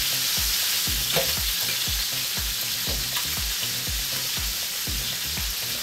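Pieces of rabbit fry in a paella pan and sizzle steadily and loudly, while a utensil stirs and scrapes in a regular rhythm, with no voices.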